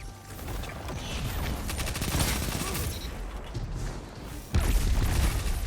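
Grenade blast and gunfire in a Destiny 2 PvP match: dense, continuous clatter of shots and mechanical rattling, with a heavier burst landing near the end, all loud and close.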